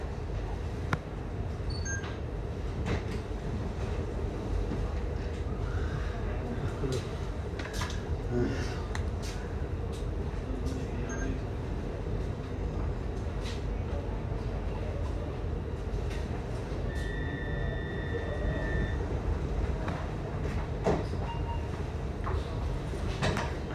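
An Amsterdam metro train on line 52, the North-South line, runs with a steady, loud rumble throughout, and a high sustained whine rises briefly near the middle.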